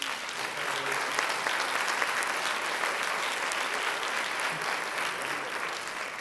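Audience at a business talk applauds the conference interpreters, steady even clapping from a sizeable crowd heard from a moderate distance, continuous throughout.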